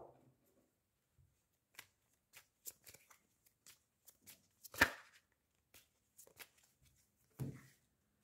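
Lenormand cards are shuffled and laid out on a table in a series of short, crisp slaps and riffles, sparse and close, with one louder burst midway and another near the end.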